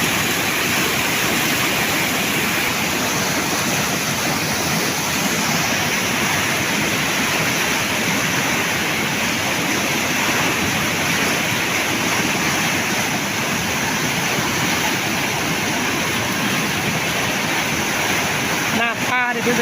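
Fast-flowing flood water rushes down from the mountain in Laos, a loud, steady, close roar of churning water that continues without a break for twenty seconds.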